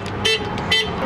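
A car's lock chirps twice as the key fob button is pressed twice, two short bright beeps about half a second apart, close by, over faint outdoor background noise.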